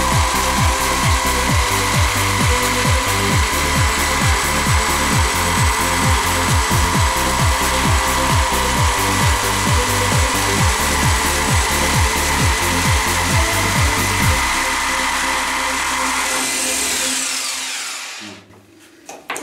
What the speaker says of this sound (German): Stabil auflegen, also das heißt stabil, aber so, dass man halt eben die Säge da sauber gerade durchführen kann.